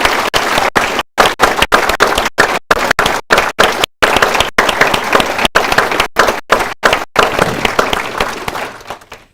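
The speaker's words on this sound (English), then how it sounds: "Let's have another round of applause for all of our awardees." Loud, sustained applause from an audience at an awards ceremony honoring awardees in the National Capital Region, dense clapping that holds steady for several seconds and then thins out toward the end.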